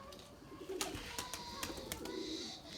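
Erzurum white pigeons coo and flutter nearby as they scatter, with soft repeated calls over a steady room hum and a few sharp wing flaps.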